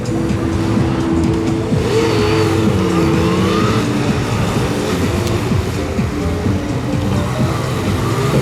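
A Yamaha Tracer 900 motorcycle pulls away at the start of a timed competition run, its engine loud and close, revving and rising in pitch continuously across the whole clip.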